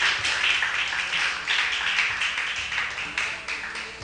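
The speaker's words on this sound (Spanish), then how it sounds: "Dele un fuerte aplauso al Señor" Steady applause from a church congregation praising the Lord, a dense wash of clapping hands lasting the whole moment, loud and even with slight swells.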